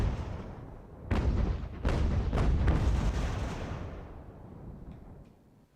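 Artillery fire in the battle game Ultimate General: American Revolution, several deep cannon booms in quick succession that roll and rumble before fading out, with no talk.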